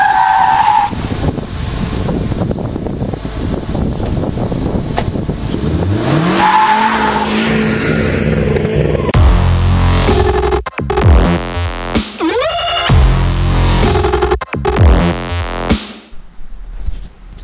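A car revs hard and accelerates with loud, sustained tire squeal and skidding, the engine note rising and falling through several sharp bursts near the end.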